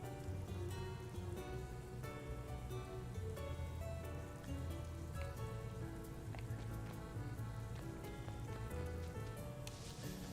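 Steady rain pattering across a surface in Pokemon Brilliant Diamond, a constant wash of drops under layered game music, loud and unbroken throughout.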